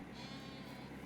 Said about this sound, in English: One black sheep.